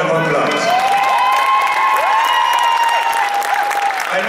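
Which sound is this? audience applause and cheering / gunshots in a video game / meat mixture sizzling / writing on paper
audience applause and cheering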